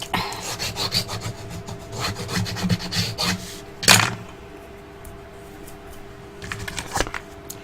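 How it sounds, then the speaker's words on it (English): Paper being burnished on its back side, close dry rubbing strokes in quick back-and-forth bursts, with a louder scrape near the middle and pauses between passes. "And burnish the back."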